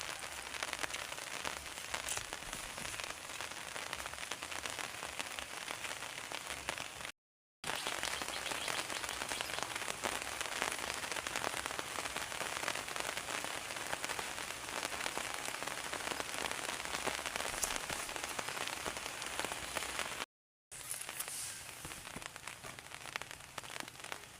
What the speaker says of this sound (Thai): ฝนตกบ่ขาดสายเลยทุกคนเลย